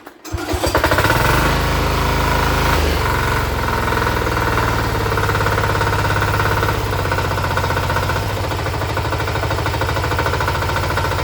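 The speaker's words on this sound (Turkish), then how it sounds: "motor biraz rolantada çalışması lazım" A small Bolat tiller engine idles steadily and loudly, a continuous rough chugging throbbing without letup from start to finish.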